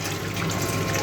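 Water pours steadily into the measuring tank of a pipe friction apparatus with the valve closed, a continuous loud rushing and gushing fill with no pauses.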